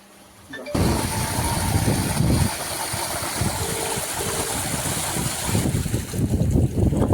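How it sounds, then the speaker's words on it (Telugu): After a click, a farm water pump motor, switched on remotely by phone call, starts up and runs with a steady rumbling drone, joined by a brief electronic beep pattern midway. "ఇప్పుడు కాల్ ద్వారా మీ మోటార్ ఆన్ చేయబడింది."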